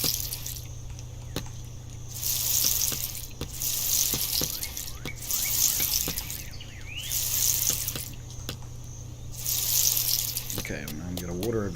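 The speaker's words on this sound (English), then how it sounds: "Okay, I'm going to water everything else as well." Water pours from a watering can onto crops in the farming game Dinkum, four or five splashing bursts of a couple of seconds each in a steady rhythm, fairly faint, with a voice talking in between.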